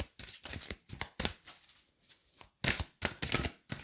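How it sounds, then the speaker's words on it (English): Quick bursts of large tarot cards being shuffled, papery riffles repeating in short irregular clusters with brief pauses between, close and fairly crisp. "I'm really struggling and shuffling these cards"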